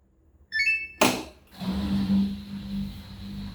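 A Samsung Bespoke AI front-load washing machine starts up at an 800 RPM spin setting: a short run of electronic beeps, then a sharp click of the door lock, followed by a steady low motor hum close by, with no talk.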